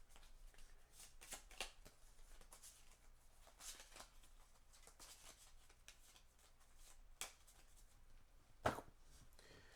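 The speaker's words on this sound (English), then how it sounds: "After this activation ends, shuffle this card into the encounter deck." Playing cards for the Marvel Champions card game are shuffled into an encounter deck, producing soft, quiet riffling bursts and light flicks spread across the clip, with one sharper snap near the end.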